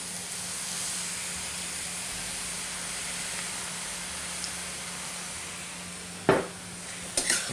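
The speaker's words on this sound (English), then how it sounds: "we'll get it in there and give it a good stir fry" Pork fried rice sizzles in a hot pan during a stir fry, a steady soft hiss with a low hum underneath, ending in a few sharp clanks of a utensil against the pan.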